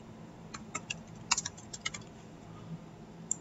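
Quiet, scattered key clicks from typing on a computer keyboard while filling in form fields, with a handful of irregular taps over soft background hiss.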